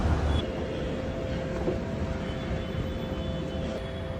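Shyam Park metro station ambience, with a steady low rumble of trains and a faint tonal hum, constant and moderately loud, with no talk.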